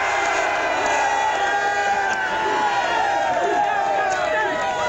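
A packed football stadium crowd at Penn State versus Ohio State murmurs and buzzes on a cold, snowy day, a dense steady babble of many voices with scattered shouts, heard close and continuous.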